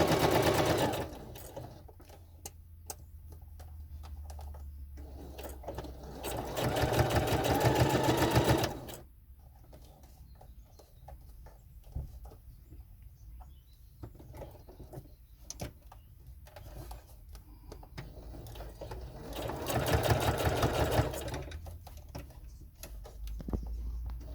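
A sewing machine attaches piping to the back of a motorcycle seat cover, running in several bursts of fast stitching with quieter handling sounds and background noise between them.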